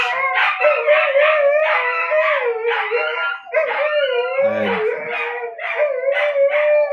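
Several dogs howl together in a long, continuous, wavering chorus, loud and close, with yips and whimpers mixed in and a brief lower bark-like burst near the end.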